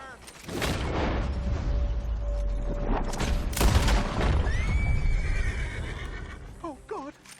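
A horse whinnies loudly in Red Dead Redemption 2 beside a carriage on a rough road, with hooves clip-clopping and heavy booming rumbles underneath, while voices talk throughout.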